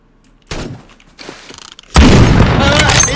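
Video game gunfire: a sharp booming shot followed by a spell of rattling noise, then a loud sustained blast of shooting and impacts, with a voice talking over it.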